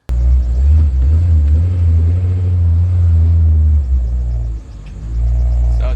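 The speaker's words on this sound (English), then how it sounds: "It started to do some weird stuff, hesitating under half throttle, stuttering, misfiring, but it was okay at full throttle" A K-swapped Honda CR-V RD1 engine runs with a loud, close, continuous rumble that briefly drops and falters, as if hesitating or misfiring, before picking back up.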